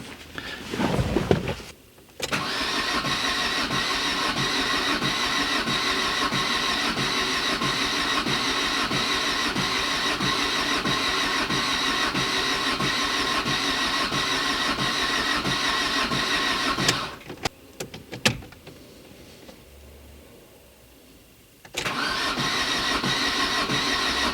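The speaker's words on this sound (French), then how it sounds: "Non, ce moteur ne veut rien savoir." A used engine cranks at length without catching, a loud, steady rhythmic starter churn that pauses briefly, then resumes for a second long attempt.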